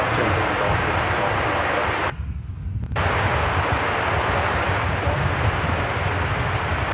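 A United Airlines plane bound for Denver roars steadily nearby at DFW Airport, a loud broadband engine rumble that dips briefly for under a second before resuming.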